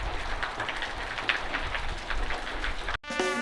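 Rain pattering steadily on a tin roof over a workshop with a gravel floor, a dense hiss of drops close by that cuts out abruptly near the end before a different sound takes over.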